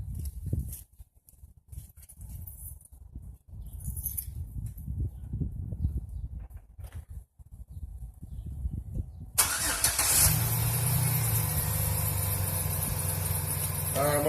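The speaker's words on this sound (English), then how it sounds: "I'm going to fire up the truck." A truck engine cranks with uneven low rumbles and pauses, then catches and settles into a steady, close idle hum for the final seconds, with no talking.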